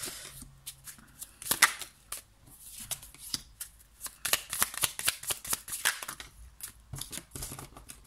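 Tarot cards being shuffled by hand, close, crisp riffling bursts and slaps in quick irregular succession, fairly quiet with no talk.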